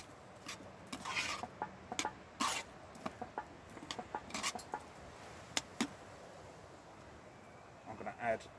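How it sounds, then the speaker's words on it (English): Spoon stirring rice into a pan of chicken and chorizo in a one-pot dish, heard as scattered scraping and clinking strokes, fairly quiet, with a faint background hiss and a few pauses between the stirs. "give it a stir"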